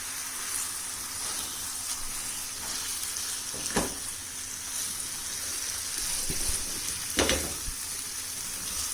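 Chicken marinated in yogurt and ginger-garlic paste sizzles steadily in a pan over high flame for a shahi chicken korma, a constant close hiss broken by a couple of sharp stirring clicks.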